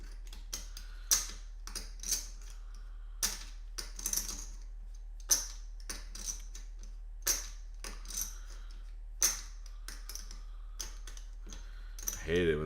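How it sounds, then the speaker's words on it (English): Poker chips clack together in a quick, irregular series of sharp clicks as they are shuffled by hand, close and fairly crisp, in a quiet room with no talking. "I'm shuffling with my chips."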